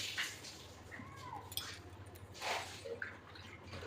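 Water drips and splashes faintly into a pot of fish curry with potatoes cooking on a gas stove, with a few soft liquid squishes and clinks over a low steady hum.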